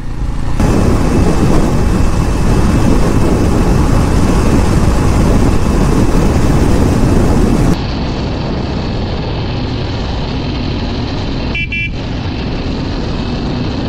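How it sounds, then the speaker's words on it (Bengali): A motorbike runs in second gear along a rough, slippery off-road track near Nilkuthi, its engine a loud continuous roar mixed with heavy wind buffeting, dropping slightly in level partway through and staying steady to the end. "গাড়ি সেকেন্ড গিয়ার দিয়ে চালাতে হচ্ছে"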